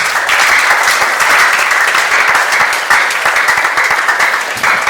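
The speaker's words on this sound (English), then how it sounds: "A round of applause too for him." Audience at a school talk applauds steadily and loudly throughout, a dense unbroken wash of many hands clapping with no pause.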